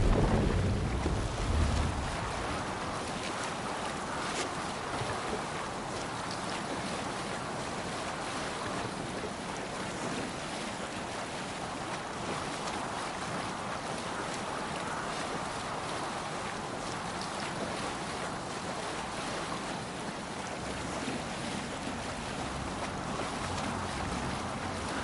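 A Viking longship rides the waves in Assassin's Creed Valhalla, a steady broad wash of water and wind that continues without a break, loud and close.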